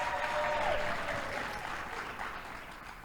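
Applause from a live audience for a team at a show celebration, steady dense clapping that stays loud throughout before easing slightly, with no talk over it.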